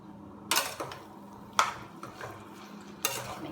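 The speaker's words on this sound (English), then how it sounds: "Here's the minced meat. I'm putting it all in and mix it about." Minced meat being stirred and pressed in a pan, a few scraping strokes of a utensil against the pan over a low background, close by.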